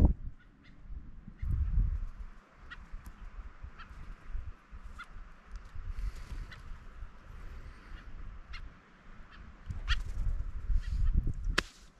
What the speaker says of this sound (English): All you birds have a great evening.